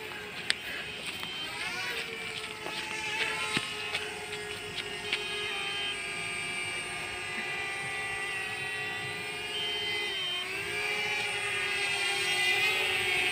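A steady whirring drone of small rotors hovers close by, with a sustained buzzing hum that wavers slightly in pitch.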